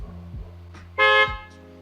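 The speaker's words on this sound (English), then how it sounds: "you can even honk the horn" A 2018 Tesla Model 3 horn, triggered remotely from a phone app, gives one loud, clear honk of about a quarter second over a low idle rumble in the background.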